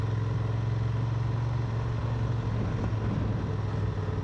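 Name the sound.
Honda Transalp motorcycle engine while riding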